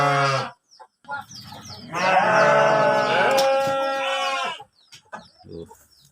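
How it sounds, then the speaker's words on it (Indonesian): Goats bleat loudly in a cattle pen, several overlapping wavering calls with one long sustained cry in the middle, close by, followed by quieter scattered animal noises. "Kambingnya pada lapar nih. Belum dikasih makan."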